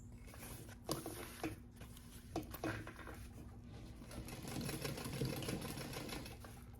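A sewing machine stitches the pocket piece of a convertible crossbody bag, starting in short clattering bursts and then running steadily over a low motor hum, close and clear.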